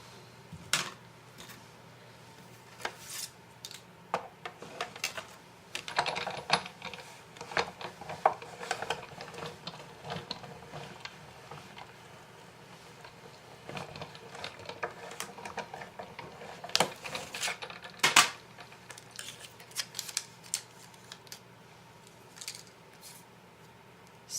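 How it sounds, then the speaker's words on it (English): Scissors cut through paper card stock to make a banner, with irregular crisp snips and rustling handling sounds close by at a quiet level, and no talk. "I'll just cut everything else out that I want to cut out."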